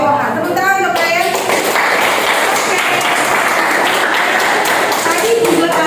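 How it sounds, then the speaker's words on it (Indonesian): A classroom group claps for a student during a chemistry lesson. The applause is a dense, loud patter that swells after a brief spoken moment and carries on steadily. "Tepuk tangan untuk Ryan"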